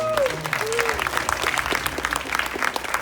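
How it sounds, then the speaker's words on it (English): Audience applause fills a cinema during a Halloween event panel, a dense steady wash of clapping with cheers mixed in, loud and sustained for the whole stretch. "round of applause for Billings Grove"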